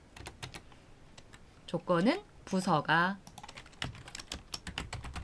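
Fast, crisp keystrokes on a computer keyboard as text is entered into a spreadsheet formula, the clicks running steadily throughout while a voice speaks briefly in the middle.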